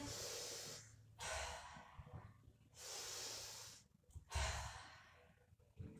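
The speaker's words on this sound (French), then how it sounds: "J'inspire." Deep, audible breaths during a Pilates exercise, long airy inhales and exhales in a slow rhythm, close and fairly quiet, with no talk over them.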